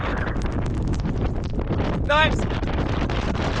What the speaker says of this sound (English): there's a 4-mile wind gust. There's a whiteout out here.